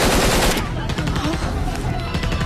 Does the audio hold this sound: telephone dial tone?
no